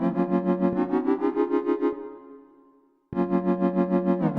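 LMMS future bass synth chord with the LFO on, pulsing in a fast rhythmic wobble, loud and bright, fading into a short tail before a second pulsing chord starts.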